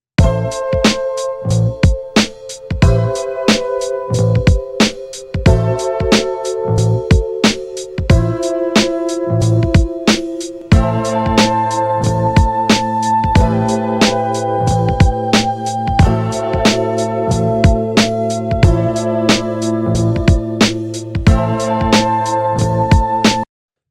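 A looped boom bap hip-hop beat plays loudly, with punchy kick and snare hits driving a steady rhythm under chopped melodic sample phrases.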